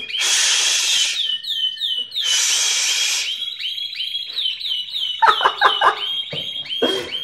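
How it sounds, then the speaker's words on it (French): Birds call loudly and repeatedly close by, with shrill whistled notes and chattering trills, broken by short bursts of harsher noise and overlapping chirps toward the end. "J'en ai marre des oiseaux."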